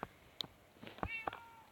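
A cat meows in the video game Minecraft, giving a couple of short, clear mews that stand alone against quiet background game sounds.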